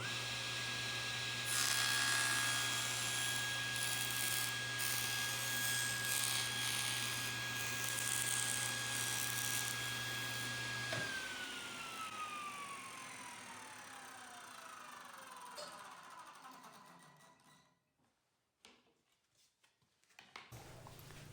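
A table saw makes the final bevel cut on a wooden piece for an octagonal bird feeder. A loud, steady motor whine runs for about eleven seconds, then the blade winds down and fades to near silence.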